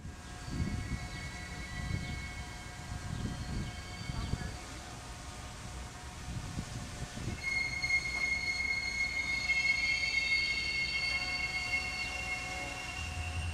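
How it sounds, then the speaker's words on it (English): Freight rail cars coast slowly downhill through a hump yard with low rumbling and faint metallic wheel squeals, quiet and somewhat distant, without any engine noise. "Then they coast down the hill, and finally they're switched off into their different tracks"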